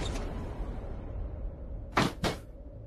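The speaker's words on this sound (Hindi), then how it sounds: "दरवाजा भेड़ दिया" A door is pushed shut indoors, giving two quick, close thuds near the end after a stretch of low room noise.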